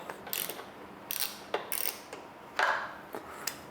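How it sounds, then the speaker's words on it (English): Ratchet with a T45 Torx bit working the factory clip-on bolt on a BMW S 1000 RR, a few short bursts of close, crisp clicking separated by quiet pauses, with no talking. "Now we'll take a T45 and break loose the Torx on the factory clip-on."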